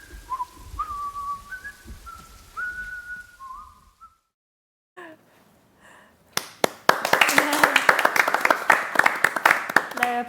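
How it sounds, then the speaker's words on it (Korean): Whistled notes first, then after a brief silence a burst of lively clapping and applause from a small studio audience at the start of a live film talk-room Q&A, some voices mixed in. "네, 박수로 시작했는데요."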